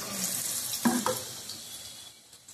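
Ponnaganti leaf bajji fritters frying in hot oil, a soft steady sizzle with a couple of brief louder crackles near the start, fading gently, with no talking.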